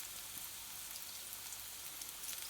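Onion and egg sizzle in a hot pan while cooking egg pilau rice, a quiet, even crackle of frying that runs without pause.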